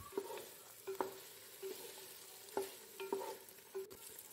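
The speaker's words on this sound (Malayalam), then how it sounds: "ഇത് നമ്മുടെ ചിക്കൻ വറുത്തത്, അതും ആഡ് ചെയ്ത് കൊടുക്കുക. നല്ലോണം ഒന്ന് മിക്സ് ചെയ്ത് കൊടുക്കുക." Fried chicken is stirred into sauce in a pan for chilli chicken, with a spoon scraping and clacking in irregular strokes over a soft, steady sizzle, close and fairly quiet.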